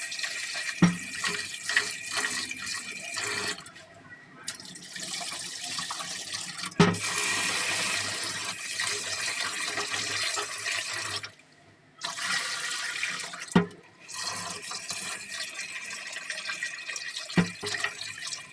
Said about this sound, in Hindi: और अब मैं इसको वॉश करके भिगो देती हूँ।